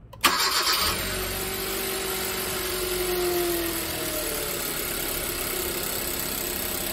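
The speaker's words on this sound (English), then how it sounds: "when I start up the engine" A car engine cranks and catches with a short burst, then settles into a steady, close idle rumble, during a MAP sensor test.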